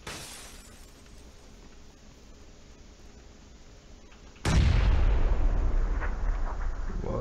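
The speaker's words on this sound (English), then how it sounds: "Okay, I'm gonna throw a grenade in the fucking top window." A grenade thrown through the top window of a building in a shooter video game bursts with a sudden loud boom, followed by a few seconds of heavy rumbling debris noise, after a quieter stretch of ambient game sound.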